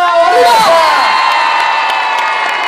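A concert crowd at an orchestra show in Ponferrada cheers and shouts to welcome a guest artist, with loud whoops and a dense roar over sustained musical tones that ease off slightly toward the end.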